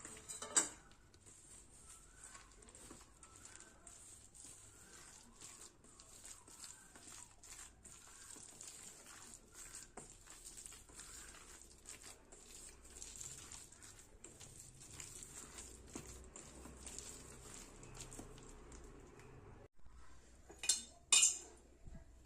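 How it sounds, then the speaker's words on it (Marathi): Mung dal vada batter being mixed with flour in a bowl gives quiet, continuous clinks and scrapes of a utensil against the dish with a soft wet squish, plus a few louder knocks near the end, and no talking. "सो हे व्यवस्थित आपल्याला मिक्स करून घ्यायचं आहे."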